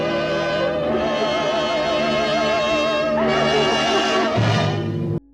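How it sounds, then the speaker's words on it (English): A theremin from a classic sci-fi film plays a loud, sustained, wavering tone with strong vibrato. The tone swells and shifts pitch over about five seconds, with no voices. "if you don't know what a theremin is, it's the thing that makes this sound."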